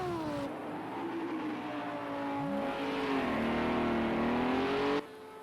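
A Mercedes AMG GT3 race car engine in Project CARS 2 at Monza holds a steady, rising whine, shifting pitch as it accelerates, then cuts off abruptly.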